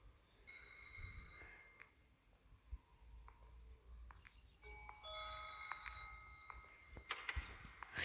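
A telephone rings indoors in two bursts of bright, trilling bell tones, with a few knocks and small handling sounds between them and no talk.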